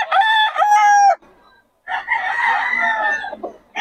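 A yellow-legged hatch gamecock crows loudly and close by at a poultry market, two long strident crows separated by a short pause, with no other sound between them.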